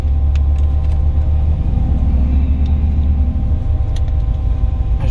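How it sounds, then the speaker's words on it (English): A Jeep engine rumbles deep and steady on a muddy off-road ledge, its low throb shifting partway through, close and loud with no talking. "your Jeep still sounds awesome"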